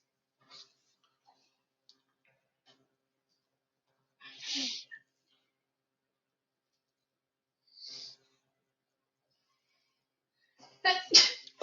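A single sneeze in a quiet classroom during a physics lecture, sharp and fairly close, followed by scattered small ticks and a short voice near the end.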